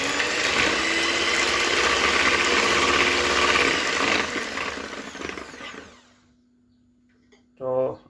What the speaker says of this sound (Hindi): तो इसको हम पहले सबसे ब्लेंड कर लेंगे